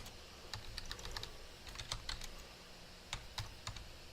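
Quiet keystrokes on a computer keyboard come in short irregular bursts with small pauses, close and clear over a faint room hum, with no voices.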